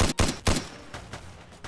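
Rapid gunfire in the Roblox video game, three sharp loud bursts in quick succession, then a softer tail of scattered shots and rattle.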